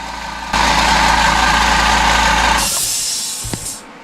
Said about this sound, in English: You see his air compressor is not straining at all. It's running it great.